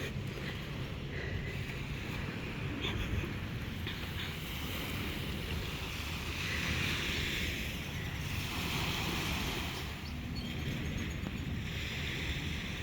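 Ocean surf rolling onto the shore at Breathless Montego Bay, Jamaica, a steady continuous wash of breaking waves with wind buffeting the microphone throughout, no voices.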